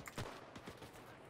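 Gunfire bursts during a bombing run in a military shooter video game, a quick volley of sharp cracks and thuds at low level, brief and distant-sounding.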